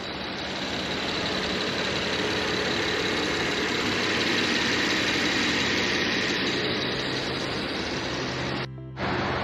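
A 2016 Rolls-Royce Dawn's engine runs steadily at idle, a smooth, even broadband hum heard close up and alone, briefly cut off near the end.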